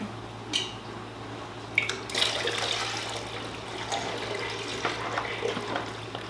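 Milk pours and splashes into a pot in a few uneven bursts while making cheese, close by, over a steady low hum.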